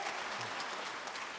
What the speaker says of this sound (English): you folks who are applauding on that